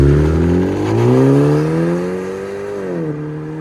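A Genesis G70 with the 2.0-litre turbo engine revs its exhaust near at hand, the tone climbing and holding, then dropping sharply near the end, loud and with no voices.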